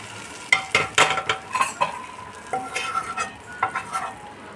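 Hot spice tempering is poured over steamed paneer in an opened tiffin box, making a quick burst of sizzling with metallic clinks and scraping of a spoon against metal, close and fairly loud, with no voices.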